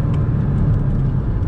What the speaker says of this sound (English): driving my Porsche Boxster S in anger